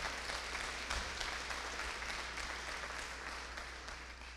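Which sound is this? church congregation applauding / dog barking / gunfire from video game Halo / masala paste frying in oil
church congregation applauding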